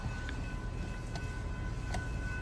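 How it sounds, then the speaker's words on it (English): A train approaches on the tracks along Grove Street in New Canaan as a faint, steady low rumble with no horn yet. "The train is coming."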